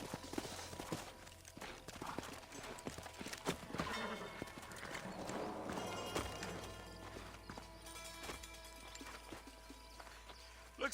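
Horses walking with a steady clip-clop of hooves in the Red Dead Redemption video game, irregular beats over a busy game soundscape with background music and some talk.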